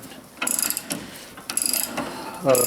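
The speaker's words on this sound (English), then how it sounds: "I'm just tightening that rod down on that" A rod is tightened down on a coil spring compressor during coil spring removal on a 1964 Impala, producing close, bursty ratcheting clicks in short runs separated by brief pauses.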